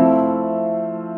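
A single sustained piano chord with an added E natural rings out clearly and slowly decays, with no other sounds.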